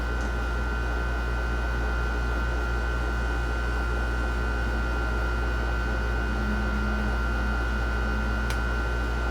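Air conditioner and heater running together indoors in a hobby room, giving a steady, even hum and hiss with a constant mains-like drone, continuous and unchanging throughout.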